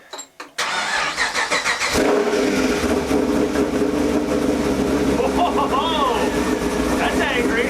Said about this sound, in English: we are about to try to fire this thing up for the first time with the new cam.